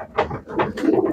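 A pigeon gives a short series of soft, low throaty coos, close by and alone.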